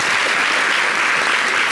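Studio audience applause, dense and sustained throughout at a steady, fairly loud level, with no voices over it.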